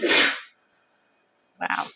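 A loud, close sneeze bursts out, followed by a pause and then a short spoken exclamation.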